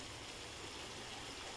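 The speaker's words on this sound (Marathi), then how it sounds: "थोडंसं पाणी टाकूया" Water being poured into a pan of spinach bhaji (palak) during cooking, a steady soft splashing wash that runs the whole moment at low level, with no voices.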